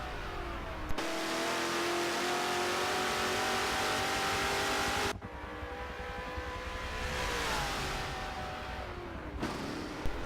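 A Chevrolet Corvette C4, the MCM Dominic Corvetto car, lapping Lime Rock Circuit in the racing game Forza Motorsport. Its engine holds a loud sustained drone, with sharp breaks for gear changes near the middle and end, and no talk.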